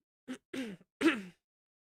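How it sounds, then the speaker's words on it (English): A person clears a dry throat in three short, close, raspy bursts separated by brief pauses. "Sorry I'm clearing my throat a bunch"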